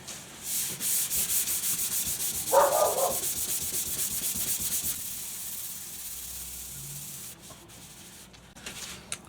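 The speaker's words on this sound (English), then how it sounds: "what I'm doing is I'm just hand sanding it." Rapid, regular rasping strokes of hand sanding on a Yamaha Virago 250 motorcycle's metal fuel tank, close and steady for about five seconds, then quieter intermittent rubbing with a brief thump.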